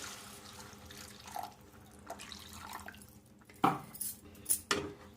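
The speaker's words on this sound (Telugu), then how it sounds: "ఇప్పుడు మనం ఇందులో వాటర్ వేసుకోవాలి" Water is poured into a pan of fried masala to make gravy for a korramenu fish curry, a quiet liquid pour ending in a few sharp utensil clinks and splashes against the pan.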